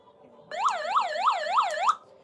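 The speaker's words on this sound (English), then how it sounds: "There you go. That was a siren." A loud electronic siren from a weather radio alarm wailing in rapid rising-and-falling sweeps, about five cycles, starting abruptly and cutting off after under two seconds.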